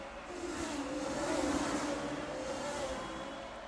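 Two Ferrari race cars in the Golden Lap racing game, 1984 Imola, with a steady engine drone swelling slightly as they pass, moderate and continuous without talk.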